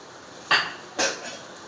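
Two eggs cracked one after another on the edge of a pan over a low flame: two sharp, close taps about half a second apart, with a faint drip after the second, in a quiet kitchen.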